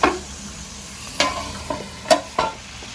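Stuffed squid cooking in reachado masala fries in a pan with a soft, steady sizzle, broken by several sharp scrapes and clacks as the pieces are stirred and turned.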